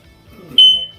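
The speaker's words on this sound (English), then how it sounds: "in here, I'm going to check the smoke detector." A single sharp high-pitched electronic beep from a smoke detector being tested during a housing inspection, preceded by faint low murmuring in the room.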